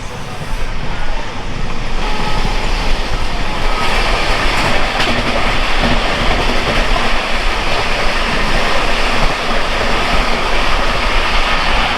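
The Himgiri Express runs from Howrah toward Ayodhya in cold, foggy weather, heard from inside as a loud, steady rumble with continuous rattling wheel clatter throughout.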